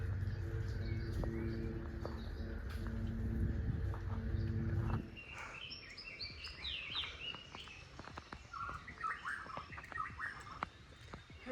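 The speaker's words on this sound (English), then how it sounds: "Hear the birds?" Birds chirping and calling in bursts in Hawaii after a low rumbling hum fades, with scattered sharp clicks throughout.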